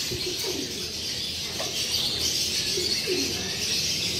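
Pigeons coo softly in a loft, giving a few low, rounded calls over a steady background hiss with faint chirps, and no one speaks.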